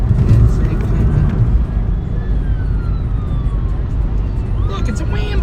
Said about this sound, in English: Look, it's a ambulance.